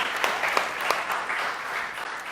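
Brief, moderate applause from a church congregation during a live-streamed service, with a mix of scattered claps blending into a steady patter.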